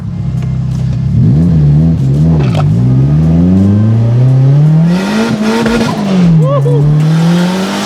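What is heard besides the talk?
Nissan 240SX car revving and accelerating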